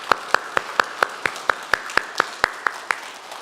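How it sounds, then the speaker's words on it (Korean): Slow, evenly spaced claps from a church congregation ring out one after another, loud and close, in a steady rhythm with nothing else underneath. "우리 한번 예수님께 영광의 박수를 한번 올려드립시다"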